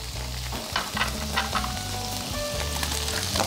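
Vegetables sizzle in melted butter in a frying pan, a dense continuous crackle with occasional utensil clinks and stirring close by, no talking.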